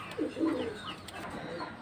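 Pigeons cooing in a loft of high-flying breeds, a low throaty coo up close, then softer murmuring and faint chirps from the birds around.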